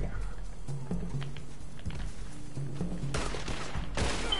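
Gunfire in the online Western shooter Red Dead Redemption 2 crackles in scattered shots and short volleys, moderately loud, with a game voice and ambient noise in the background.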